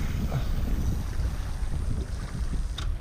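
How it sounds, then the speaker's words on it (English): Wind blowing steadily over the water aboard a fishing boat out after bluefish, a constant low rumbling buffet against the microphone with no talk. "All kinds of weird wind today."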